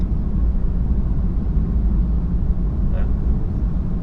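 Cabin road noise inside a 2018 BMW i3 with carbon fibre chassis and frameless windows cruising on a motorway: a constant low rumble and tyre roar, moderately loud and unbroken.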